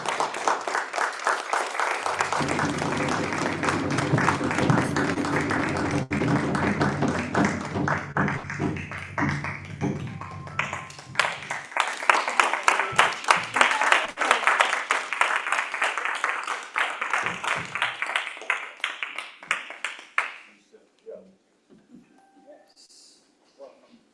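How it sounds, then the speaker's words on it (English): A church audience claps loudly for a children's choir, sustained applause that carries on for about twenty seconds with sharper, uneven claps in the later stretch before fading to near quiet. "y'all give them a round of applause"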